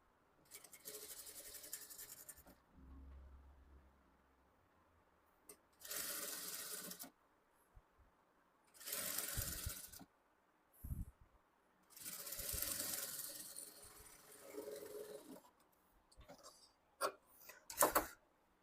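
Bursts of a sewing machine stitching a blouse, several runs of steady whirring each lasting a second or two, separated by pauses, close and fairly quiet.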